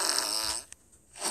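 A single loud fart ripping out up front for about half a second in an Among Us match, then tailing off into quiet.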